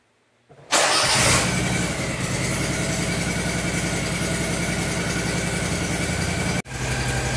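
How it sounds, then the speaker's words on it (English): Kawasaki engine on a zero turn mower starting up with a loud catch, then idling steadily and close, with a brief dropout near the end. "So we're going to let that sit here and idle for just a few minutes and then we'll shut it off"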